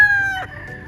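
A bullstag rooster lets out a loud, close crow with a strong harmonic ring that breaks off and trails into a lower, rougher note, with no one talking.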